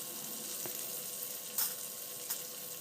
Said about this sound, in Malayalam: നമ്മൾ ലോ ഫ്ലെയിമിലാണ് ഇത് ഫ്രൈ ചെയ്തെടുക്കുന്നത്